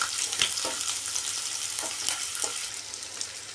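Garlic, green chilli and shallots frying in oil for a fish curry, a bright steady sizzle with several soft stirring knocks, close-up and without talk.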